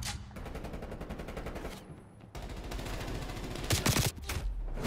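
Rapid automatic gunfire in the Call of Duty Black Ops Cold War multiplayer video game, dense sustained bursts with a brief pause, then a louder cluster of shots near the end, close and loud with no talk.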